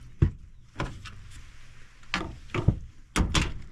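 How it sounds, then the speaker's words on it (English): Access door on a simple HVAC heat pump unit popped open, a series of sharp metallic clunks and thunks spaced across a few seconds, close by with no talking. "Next, what we're going to do is we're going to pop open the door."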